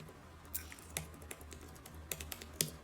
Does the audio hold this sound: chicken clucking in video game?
no